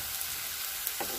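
Potato pieces frying in a generous amount of oil in a pan for aloo palak gravy, a close, dense, steady sizzle with a brief stirring rustle near the end, no voices.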